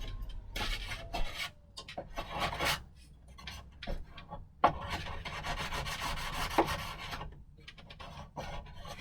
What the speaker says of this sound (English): I did stick the balsa wood a little bit to the side of it, so I'm just going to scrape it off